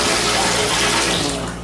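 Water gushes strongly from a resort bathroom tap, a steady dense hiss that holds level and then tapers off slightly at the end, with no voices.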